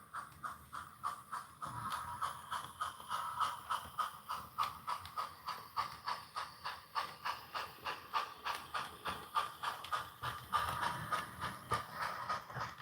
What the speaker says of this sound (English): The locomotive is still running just fine.